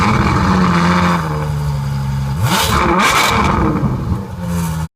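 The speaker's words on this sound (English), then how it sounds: "This is how the Ferrari F12 cold start sounds." A Ferrari F12 TDF's V12 engine fires up from cold, a loud, steady high-idle drone that flares into a couple of sharp revs before cutting off abruptly.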